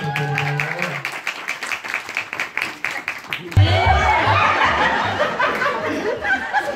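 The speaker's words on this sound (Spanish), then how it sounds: "el aplauso también es para Gil" Audience at a party show with turkeys in Tampico Alto, Veracruz bursts into loud, close applause and cheering that fills the second half, following chuckles and a speaking voice.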